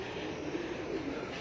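Soft, low pigeon cooing rises and falls in a continuous murmur, fairly faint against steady background noise, with no talking.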